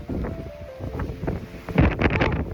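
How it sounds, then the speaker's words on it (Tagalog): Strong wind buffets the microphone in gusty roars, growing louder toward the end, with faint background noise and no speech. "Grabe ang hangin oh."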